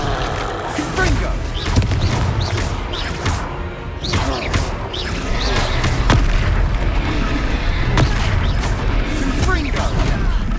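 Explosive Confringo spell blasts in Hogwarts Legacy, with repeated booming impacts and crashes over dense, continuous combat noise and a low rumble throughout.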